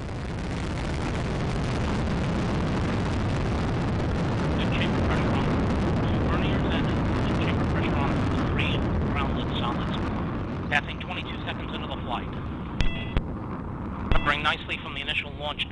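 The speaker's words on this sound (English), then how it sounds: "We have ignition and liftoff of Aquarius and the SAC-D Observatory" Delta rocket lifting off from Vandenberg Air Force Base in 2011 carrying the Aquarius and SAC-D observatory, a loud, sustained broadband roar that holds steady, then thins into crackling bursts toward the end.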